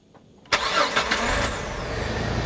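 A 2004 Jeep Wrangler TJ engine cranks on a new starter after a short quiet lead-in, turning over briefly and catching into a loud, close running rumble.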